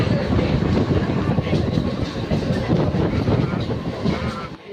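An Asangaon-bound local train rumbles loudly nearby, wheels clattering in a steady rhythm on the rails, its noise filling the whole stretch before it briefly fades.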